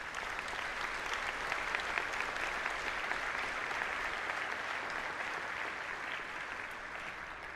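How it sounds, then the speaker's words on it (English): Sustained applause from a commencement audience, a dense steady wash of many hands clapping at even loudness throughout, with no speech over it. "that deserves a round of applause"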